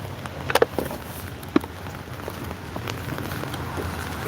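Rain falls steadily on a surface outdoors at night, a continuous close patter with a few sharper drops and knocks near the start.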